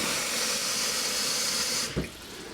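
Tap water pours steadily into a measuring cup in a kitchen while making stuffing, a constant rushing stream that cuts off abruptly near the end with a small splash.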